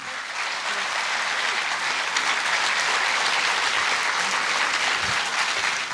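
Sustained, even applause from a concert audience at a folk song show in Argeș, many hands clapping densely at steady volume for several seconds without any voice on top.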